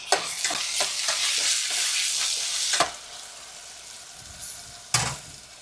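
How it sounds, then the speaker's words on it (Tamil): Tomatoes and onions sautéing with salt in a pan, loud close sizzling with repeated rhythmic scraping stirs that ease off midway, then one sharp clank of the spoon against the pan. "தக்காளி கொஞ்சம் டக்குன்னு வதங்கிடும்."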